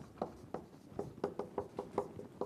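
Chalk strikes a lecture-hall board in a quick series of about a dozen sharp, close taps and scratches, each short and fairly quiet.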